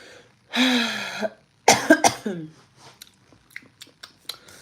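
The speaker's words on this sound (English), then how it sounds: "Today I woke up coughing way more." A person coughs a few times at close range, harsh bursts followed by throat clearing and smaller rustling sounds, with no speech.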